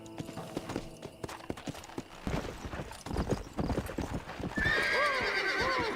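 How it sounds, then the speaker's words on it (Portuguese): A horse trots in the western video game Red Dead Redemption, its hooves clip-clopping in a steady beat before it breaks into a loud, whinnying neigh near the end. "Opa, calma, cavalinho."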